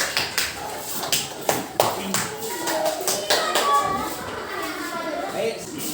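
A group in a classroom claps hands after a presentation, with uneven sharp claps at first building into a steadier ragged patter, while children's voices and chatter carry underneath.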